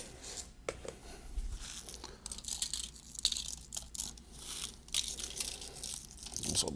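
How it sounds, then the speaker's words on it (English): Breadcrumbs are scattered over clams casino, giving faint crinkling and crunchy rustles in scattered bursts, close and quiet, with no talking. "A few more breadcrumbs on top."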